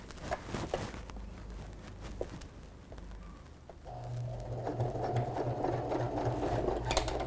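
A sewing machine runs a straight stitch along pinned fabric for a sleepover bag, starting after a few seconds of handling noise and then whirring steadily and close up without pause until the end.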